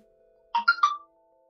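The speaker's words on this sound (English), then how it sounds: "Phone's going off." A phone ringtone from a Mantis Run game stream goes off in a quick burst of three bright melodic tones lasting about half a second, over a faint steady hum, with no talk.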